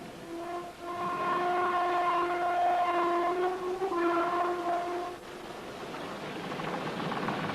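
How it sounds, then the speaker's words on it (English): Ore wagons being hauled up a slope at Llanwern steelworks, with a sustained tonal screech or horn-like whine over rumbling rail noise, loud and close, fading briefly around five seconds before the rumble builds again. "beginning by hauling each wagon to the top of the slope at mechanically preset intervals"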